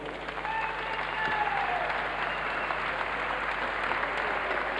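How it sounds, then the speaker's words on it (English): Steady crowd applause for both boxers after a ten-round bout between Brian Carr and Mike Deveney, broad continuous clapping from a large hall audience, fairly distant, with faint voices mixed in. "How about giving both boxers a nice round of applause."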